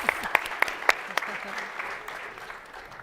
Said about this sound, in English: to these amazing panelists, give them another round of applause